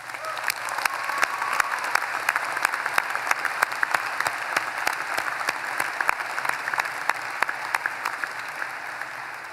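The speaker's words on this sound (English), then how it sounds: "Let's give Joe's and all our parents who sacrificed to get us here today a round of applause" Audience applause at a university graduation ceremony, a steady sustained burst of many clapping hands, fairly loud and close, running the whole stretch with no talk over it.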